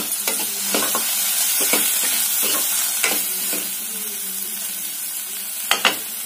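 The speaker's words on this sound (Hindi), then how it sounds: "एटा मसला भल से कषिया बार के छाड़ी देना" Masala fries in a pan and is stirred, a soft constant sizzle broken by a series of sharp scraping strokes of the spoon, several close together and a louder pair near the end.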